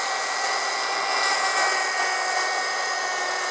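A polishing machine grinds marble or granite with little water, giving a steady, loud, hissing abrasive whir that holds constant throughout, close up.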